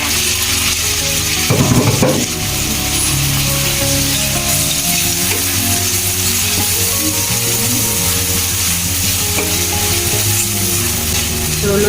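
Tomatoes fry in a pan with a loud, steady sizzle, while a utensil clatters and scrapes against the pan now and then during stirring.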